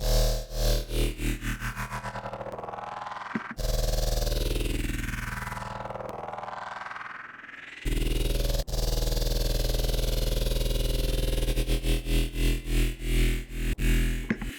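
A loud buzzy synthesizer tone from a stock Ableton instrument sweeps and warps in pitch as its phase is modulated, with a stuttering pulsing section before and after a smooth swooping middle.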